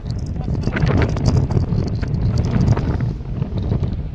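Strong wind at Kanaichatta sea beach buffets the microphone in a loud continuous roar, with faint voices underneath.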